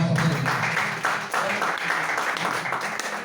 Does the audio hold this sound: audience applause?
yes